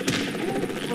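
Rapid gunfire from the mobile battle royale game PUBG Mobile crackles continuously through the whole second, loud and dense, with voices of players talking over it.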